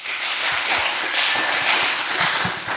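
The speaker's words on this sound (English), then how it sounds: "Round of applause" A dense, continuous round of applause from an audience at a startup founders' pitch event, many hands clapping together at a steady, moderately loud level with no talking.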